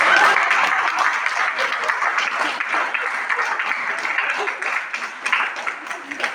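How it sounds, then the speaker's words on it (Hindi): Loud, dense clapping from a crowd at an Amway open meeting in Bhagalpur, a sustained round of applause heard close, with voices faintly mixed in. "ताली।"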